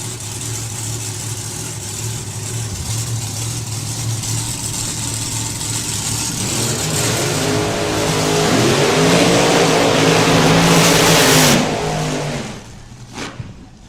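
Two drag racing cars at the Summer Nationals finish their burnouts, loud engines idling and then revving up into a swelling roar with rising harmonic tones before cutting off abruptly near the end.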